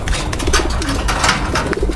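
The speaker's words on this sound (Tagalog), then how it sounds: "healthy yung mga kalapati natin" Pigeons coo in low, soft, repeated burbling calls close by, with rustling and faint background noise around them.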